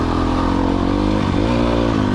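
A 2020 Sherco 300 SEF Factory dirt bike engine runs loud and close while riding, a steady throbbing drone that dips slightly and then climbs in pitch.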